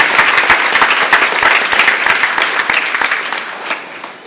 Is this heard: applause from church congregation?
yes